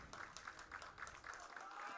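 A baseball crowd claps in a steady rhythmic beat for the home team, Big Train, at a game against the Southern Maryland Senators, with even claps spread across the stands under a broadcaster's commentary.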